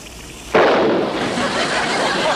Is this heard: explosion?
yes